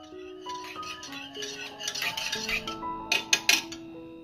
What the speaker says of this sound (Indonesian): 500 ml susu cair full cream, aduk-aduk hingga tercampur rata.